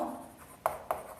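A teacher writes on a classroom board, giving soft scratchy strokes and then two short, sharp taps.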